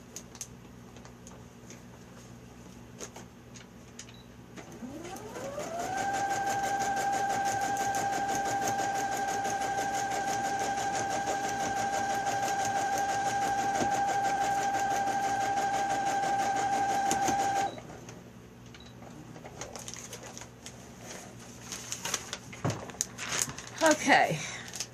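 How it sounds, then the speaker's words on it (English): A sewing machine stitches down a piece of a newspaper quilt in one steady run of about twelve seconds, close and fairly even, with faint handling noises before and after. "And we're going to sew it down."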